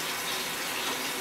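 Cold water gushes steadily into a Whirlpool AWO/D7116 washing machine with a glued drum tub, a broad continuous rushing flow with no speech.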